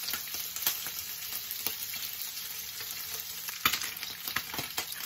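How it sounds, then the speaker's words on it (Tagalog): Steady crackling sizzle of pork belly frying in hot oil, with scattered louder pops and spits over a continuous hiss. "Prito na po natin ang ating pork po."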